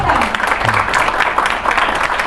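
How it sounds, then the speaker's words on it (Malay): An audience at a Malaysian gold investment seminar applauds the first panel, with a dense, steady wash of clapping that holds through the whole short stretch. "Beri saya tepukan pada panel yang pertama."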